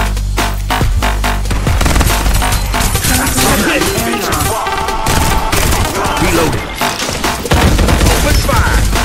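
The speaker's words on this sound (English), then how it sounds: "Shooting" Rapid automatic gunfire from the battle game Farlight 84, loud and dense, mixed with booms, impacts and game effects into a continuous harsh wall of sound with no pauses.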